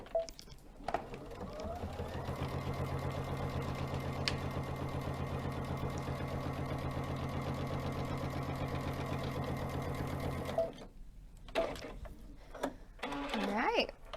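An embroidery machine stitches down material in one steady, close mechanical whir that lasts about ten seconds and then stops, with handling noises before and after.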